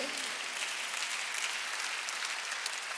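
Congregation applauding during a Korean church Sunday worship service, a soft, steady patter of many hands clapping at a distance, even and continuous without clear breaks.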